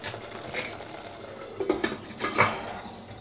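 Cubed aubergine is stirred into simmering soy mince curry in a pan, giving soft scrapes and a couple of louder clinks over a low bubbling background, with no voices.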